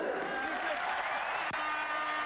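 Stadium crowd of Girondins de Bordeaux supporters applauding a substitute footballer coming on at a France versus Czech Republic friendly in 1994, a steady broad wash of clapping under continuous television commentary.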